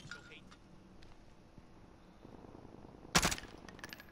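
A single short burst of XM4 rifle fire in a shooter game, a sharp loud crack standing out from quiet background game ambience.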